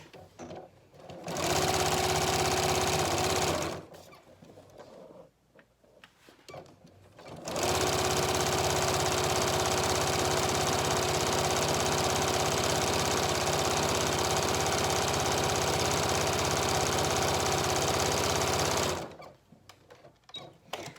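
A sewing machine stitches diagonally across a fabric scrap bag, running in two loud, steady bursts: a short run early on, then a long continuous stretch, with quiet pauses between.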